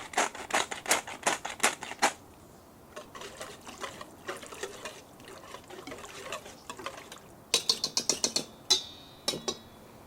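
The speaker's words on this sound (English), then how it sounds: "Add a little bit of pepper, black pepper." Black pepper ground into a red wine marinade, a rapid series of dry crisp grinding clicks in bursts, fairly close and alone, with a short faint liquid trickle toward the end.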